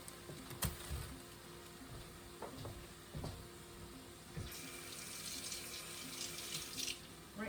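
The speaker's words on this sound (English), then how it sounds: "Rinse my hands off." A kitchen faucet runs while hands are rinsed of cheese, a steady moderate splashing flow with small knocks and clatter, growing brighter and fuller partway through as the stream strikes the sink.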